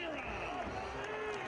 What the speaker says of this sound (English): Hear all the crowd noise.